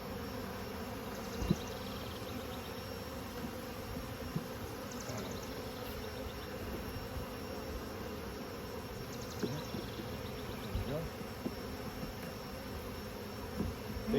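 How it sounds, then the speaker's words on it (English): Honey bees swarming around open hives during an inspection, a dense, continuous droning hum that stays steady and close for the whole stretch, with occasional small knocks and handling noises. "And these bees are really calm."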